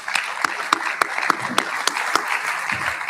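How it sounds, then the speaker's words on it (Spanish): Scattered, sparse claps from a small audience thanking panel speakers at a conference session in Costa Rica, a dozen or so distinct hand claps over faint background murmur. "que el aplauso sea reconocimiento y agradecimiento para ellos"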